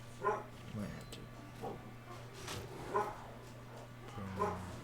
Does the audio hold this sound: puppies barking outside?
yes